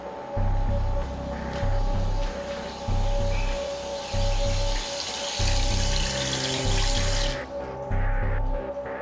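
Water hisses through household pipes as a steady, fairly loud rush, with a regular low thumping pulse beneath it; the hiss cuts off abruptly near the end, leaving quieter drips and noise.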